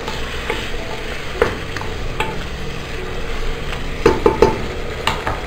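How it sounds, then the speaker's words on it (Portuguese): Steady sizzle of meat frying in a pan, with a few scraping stirs and clinks of a utensil, close and fairly loud, no voices. "Tá fritando aqui."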